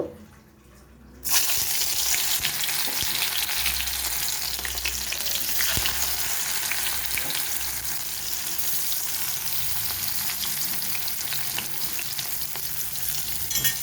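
Bitter gourd hits hot oil in a wok after a brief quiet moment, setting off a loud, dense, continuous frying sizzle that stays steady and close with faint stirring scrapes beneath it.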